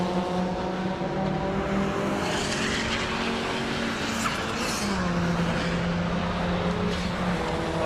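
A classic Mini race car pulls away from the pits at Donington Park. The engine note climbs and shifts through gears over a steady motorsport din, with a brief tyre squeal partway through and no voices.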